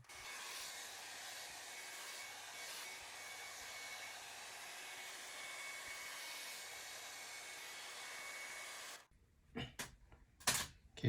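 A hair dryer blows steadily on the edges of a Samsung S8+ phone to soften the glue. It makes a constant near whooshing hiss, then cuts off, followed by a few handling clicks and knocks.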